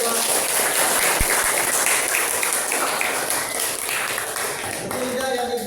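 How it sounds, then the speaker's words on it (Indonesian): Classroom applause from a group of students, a dense, steady patter of clapping that fills the whole stretch at an even level, with voices mixed in underneath. "Tepuk tangan dulu buat"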